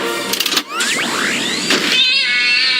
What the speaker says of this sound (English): I backed over Mrs. McGillicuddy's time cat